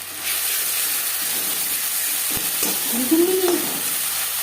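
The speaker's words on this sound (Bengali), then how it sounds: "ফোড়ন ভেজে নেওয়ার পর দিয়ে দিলাম ছোটো 1 চামচ আদা বাটা, 2 চামচ কাঁচা লঙ্কা বাটা" Ginger and green chili paste frying in hot oil in a pan, a steady loud sizzling hiss with occasional stirring scrapes, while a voice speaks briefly over it.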